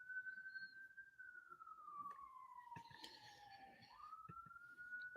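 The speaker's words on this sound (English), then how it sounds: "Siren." A distant siren wails steadily, its pitch slowly dropping then rising again, over faint traffic and background noise.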